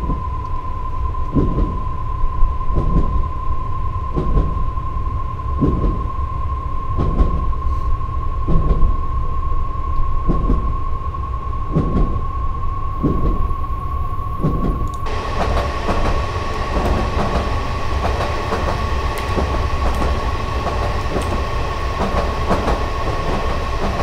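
A Metropolitan Line train in Train Simulator 2018 runs steadily with a rhythmic clickety-clack of wheels over rail joints and a constant tonal whine, loud and close throughout with no talk.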